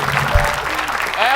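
Audience applause at an Indonesian comedy stage show, a brief, steady wash of clapping. Talk and a sliding voice-like tone run over it.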